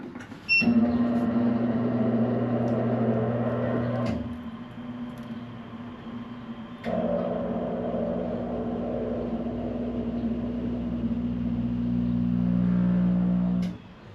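A wheel balancer spinning up a tire, a steady humming motor drone that holds for several seconds, dips, then resumes at a similar level with a rising tone before cutting off; a few faint clicks, no talk.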